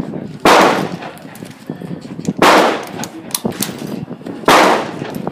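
Three loud, close gunshots from a Yugoslavian SKS M59/66 rifle fired outdoors, evenly spaced about two seconds apart, each a sharp blast trailing into a rumbling echo.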